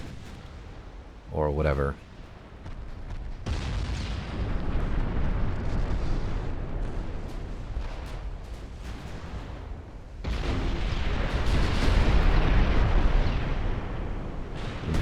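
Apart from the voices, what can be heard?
warship flash fire explosion in naval video game UAD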